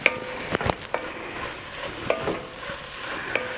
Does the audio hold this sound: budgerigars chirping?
no